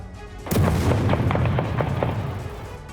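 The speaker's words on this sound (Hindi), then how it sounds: "धमाका कितना जबरदस्त था, इसका अंदाजा इन तस्वीरों से लगाया जा सकता है।" A powerful explosion from an Israeli airstrike on Gaza hits with a sudden heavy boom, then rumbles and cracks for a few seconds before slowly fading.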